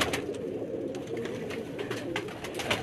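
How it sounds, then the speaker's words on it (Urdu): Ali wala pigeons coo at a fancier's loft in Sialkot, soft low throaty murmuring from several birds with scattered sharper chirps and flutters, steady and close. "یہ علی والا کبوتر ہے"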